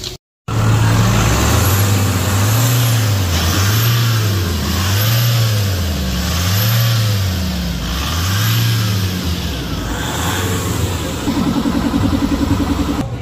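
A Nissan Navara engine, just back from an EGR valve cleaning, revs up and down in a steady repeating cycle of about six loud, close swells before it settles into a rough idle.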